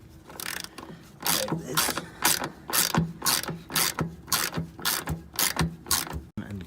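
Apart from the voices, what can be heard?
ratchet wrench loosening bolts with 18mm socket on semi truck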